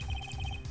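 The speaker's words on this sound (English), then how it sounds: "I heard a phone ring just now." A short electronic ringtone from the Phoenix Wright: Ace Attorney video game, a quick repeating melodic beep pattern, faint and heard alone over a low hum.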